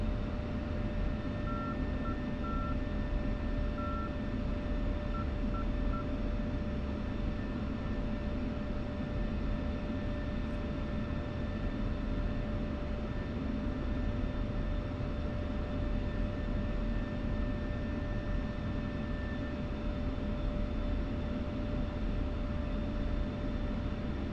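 Aircraft taxiing in a flight simulator game, giving off a steady, continuous engine drone with a thin whine and faint tonal hum held for the whole stretch, with no talking.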